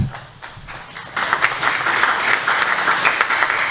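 Church congregation bursting into loud, sustained applause after a testimony, the clapping rising suddenly and holding as a dense, steady wash of many hands.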